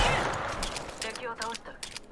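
Rampage light machine gun fire in Apex Legends sounds as a quick string of sharp repeated shots that fade gradually, under a player's talk.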